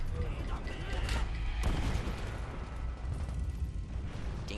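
Grenade explosions and gunfire in the World War II shooter Call of Duty: World at War, a few booming blasts standing out over a dense, continuous roar of battle noise.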